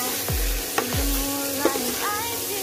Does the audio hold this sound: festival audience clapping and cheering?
no